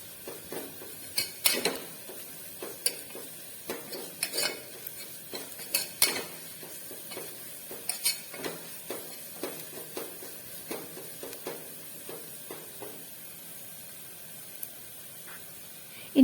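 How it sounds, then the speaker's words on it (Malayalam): Spice powders stirred in a pan over a low flame give off a run of light, irregular scraping and clinking taps from the utensil over a faint background hiss, fairly close and fairly quiet. "പൊടികൾ ചേർത്ത് കൊടുത്ത ശേഷം ഇത് ലോ ഫ്ലെയിമിലിട്ടിട്ട് വേണം ഒന്ന് ഇളക്കി എടുക്കാനായിട്ട്"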